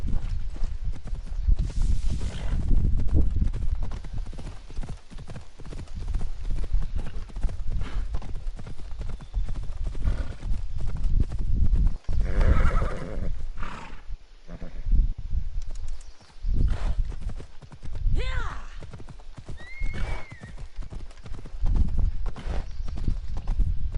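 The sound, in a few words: horse galloping in video game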